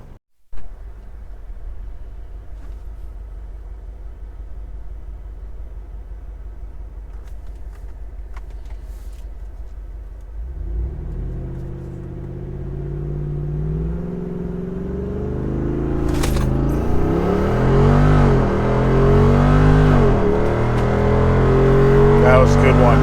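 Jeep Wrangler 392 V8 on a trail in Off-Road Plus mode, idling low and then building to a loud, rising rev against the brake, rumbling near and steady under some talk.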